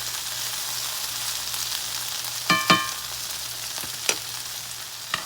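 Okra frying in a very hot cast-iron skillet gives a steady, close sizzle throughout, broken by a few sharp scrapes and clinks of a utensil against the iron.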